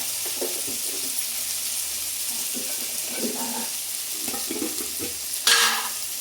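Palm fruit curry stirred in a pan, with a steady background sizzle, soft scraping spoon strokes and one brief louder clatter near the end.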